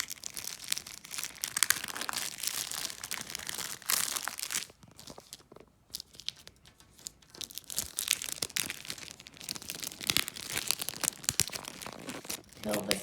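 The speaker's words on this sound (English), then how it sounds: "peel this from the plastic. You can hear this almost sounds like a sticker coming off" A dried Chihuly-style mock glass craft piece is slowly peeled off a plastic sheet, giving a sticky, crackling tear like a sticker lifting. The sound is close and fairly continuous, with a short quieter pause midway.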